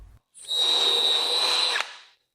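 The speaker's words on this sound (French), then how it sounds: "Vous voulez simplement le régler sur la fonction perceuse, et cela va fournir toute la puissance en continu" A cordless drill set to its plain drill mode runs at full continuous power, a steady high-pitched whine lasting under two seconds, loud and close, with no talk over it.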